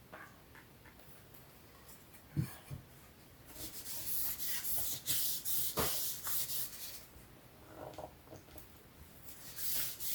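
Cardboard being rubbed firmly along a fold to crease it while making a paperback book box, a series of dry scraping strokes that swell and fade, close and fairly loud, with no talking.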